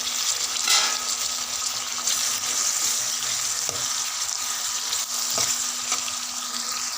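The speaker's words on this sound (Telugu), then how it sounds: "ఇప్పుడు కట్ చేసి పెట్టుకున్న టమాటా ముక్కలు కూడా వేసి బాగా కలపాలి" Chopped tomatoes frying and being stirred in a pan for upma, a steady close sizzle with occasional sharper spatula scrapes and clicks against the pan.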